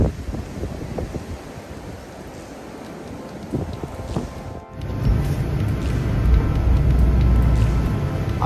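A front wheel drive minivan pulls out through fresh snow after a night of snowfall, its engine and tire rumble rising steadily and growing louder toward the end, with wind-like noise around it and no talking.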